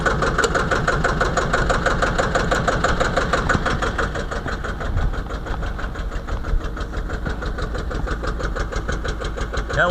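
An old Deutz tractor engine that is very hard to start cranks and catches, then runs with a steady, loud, knocking diesel rhythm close by, with no talk.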